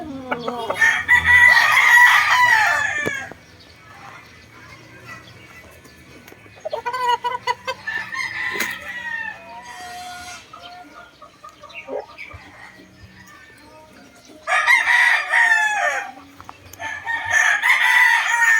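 Banded gamefowl roosters crow repeatedly, loud and close, in three bursts with clucking and quieter farmyard sounds in the gaps.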